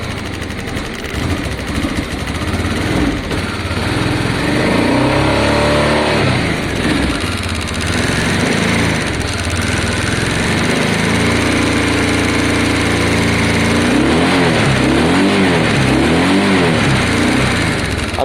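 A Honda Deauville motorcycle engine runs nearby during a carburetor cleaning, a loud continuous idle with several blips of revving and wavering pitch, and no talking over it.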